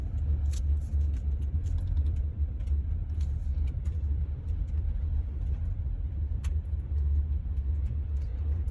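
A car cruises through downtown Wells, Nevada with a steady low engine and road rumble from inside the cabin, marked by occasional light clicks and rattles.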